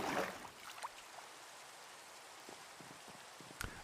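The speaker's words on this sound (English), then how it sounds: "Oh, the rain." Steady rain patters through a game level, a soft even hiss with scattered drop clicks and a few sharper taps near the end, alone and fairly faint.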